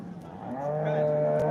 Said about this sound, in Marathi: मामाची गाय आहे शेतकऱ्याची गाय आहे